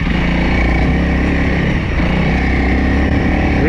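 A Honda CRF300L dual sport motorcycle engine drones loudly and continuously up close while riding off-road in British Columbia, a steady throbbing rumble with slight shifts in pitch.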